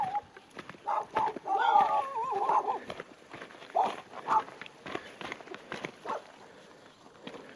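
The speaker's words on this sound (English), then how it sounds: "And this is exactly the dogs I was talking about earlier." Several dogs on a mountain hiking trail give short, scattered barks and yelps at moderate distance, irregular and overlapping, with a few louder bursts.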